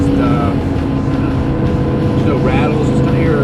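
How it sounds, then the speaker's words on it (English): A 2005 Lamborghini Gallardo with a V10 engine drones steadily from inside the car while driving, with a loud, continuous rising and falling tone and someone talking over it. "Let's go ahead and take it for a drive. Listen to this thing go. Just makes a nice sound, nice and snappy"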